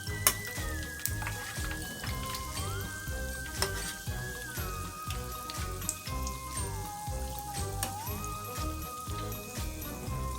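Oreos deep frying in hot oil, a steady dense sizzle and crackle running throughout, with a few light clinks and faint music underneath.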